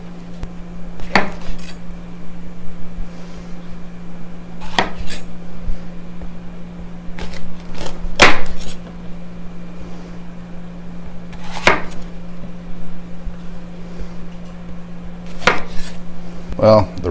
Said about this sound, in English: we're going to start slicing up our vegetables